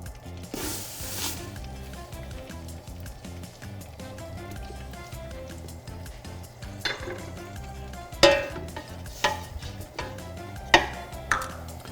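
Two cups of sugar are stirred in a tall pan for French toast syrup, with soft scraping and clinks of a utensil against metal, a low background hum, and a few sharper knocks toward the end.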